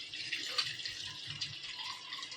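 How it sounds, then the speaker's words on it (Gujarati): A cooking pot is filled with water, making a thin, hissing trickle of running water that is quiet and steady, with faint clinks and no talk. "હું છે ને ટોપણીમાં પાણી ભર લઉં"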